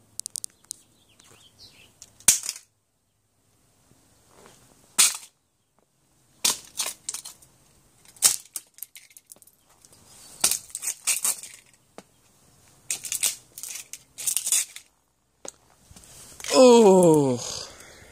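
Cheap white-van-scam amplifier circuit board being smashed: a series of sharp cracking, crunching impacts spaced irregularly over several seconds, close and loud, with a voice speaking near the end.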